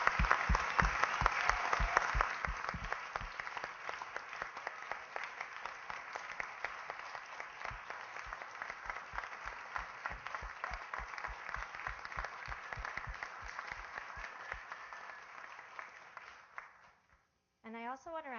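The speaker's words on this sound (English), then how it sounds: "One more time, a big round of applause." A symposium audience applauds at length, many hands clapping in a full, close-sounding ovation that slowly thins out and fades near the end.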